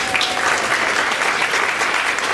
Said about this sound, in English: They need some round of applause